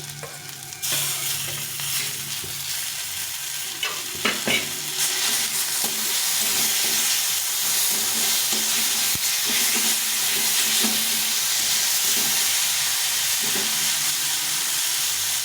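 Flat beans drop into onions frying in a pan, setting off a loud, steady sizzle that continues close and unbroken, with occasional scrapes and clinks of stirring.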